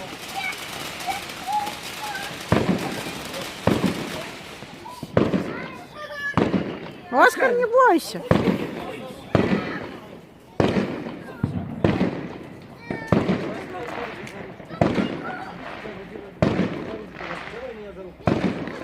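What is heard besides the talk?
small fireworks display on Bonfire Night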